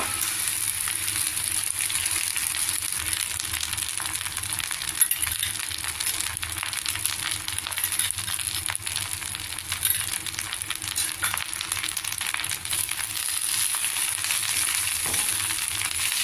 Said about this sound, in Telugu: బాగా కలుపుకోవాలి గోంగూర దగ్గరగా ఈ విధంగా వేయించుకోవాలి